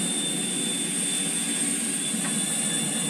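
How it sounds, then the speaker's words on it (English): Steady whine and roar of an airplane jet engine in the video game GTA 4, an even, continuous drone with a high-pitched tone on top and no talking. "There's a plane over there."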